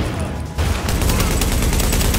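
Rapid suppressed gunfire in a video game rattles in a dense, loud stream of muffled pops. The firing is continuous and close, with a brief dip before the burst intensifies.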